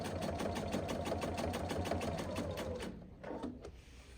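Close sewing machine running steadily while stitching binding onto a quilt, a fast even needle rhythm for about three seconds before slowing to a stop and a few short bursts.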